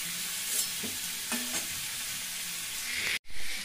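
Boiled potatoes being stirred and fried in a pan in a village home kitchen, with a steady soft sizzle and a few scraping stir strokes, ending in a louder burst of frying.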